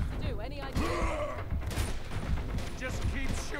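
Gunfire in the video game Uncharted 2: Among Thieves, bursts of shots mixed with grunts and game effects. Player speech runs over the action.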